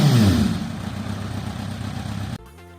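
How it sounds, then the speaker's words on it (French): A Kawasaki Z750 motorcycle engine with a small carbon exhaust, opening with a loud rising rev that settles into a steady, muffled running note, then drops away abruptly near the end. "on va écouter le son du petit pot carbone"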